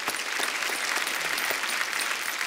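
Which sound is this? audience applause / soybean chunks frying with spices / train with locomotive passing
audience applause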